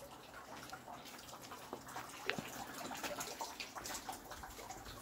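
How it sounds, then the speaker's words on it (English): Faint, steady running water trickles from a drain grid in the distance, a soft continuous wash with occasional small clicks and outdoor background. "She's hearing this water from the drain grid over there."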